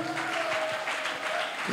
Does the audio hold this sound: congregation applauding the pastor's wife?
yes